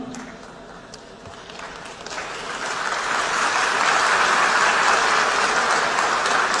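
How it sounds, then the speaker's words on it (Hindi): Audience applause after a political speech, a dense wash of clapping that swells and grows louder over several seconds, sustained without pause. "आया हूं इसकी ताली बजा रहे हो"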